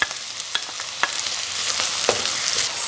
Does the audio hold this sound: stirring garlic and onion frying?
yes